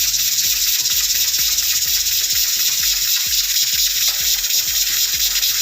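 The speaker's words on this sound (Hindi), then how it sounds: "उसके बाद जी मैं प्रेशर कुकर करती हूँ बंद।" A pressure cooker hisses steadily as Peshawari namkeen mutton (dumba karahi) cooks, a continuous loud hiss running over rhythmic background music.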